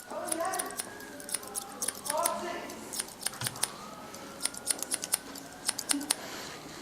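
Barber scissors snip short hair during a haircut, with rapid, crisp metallic clicks coming in quick clusters, while someone talks over the early part.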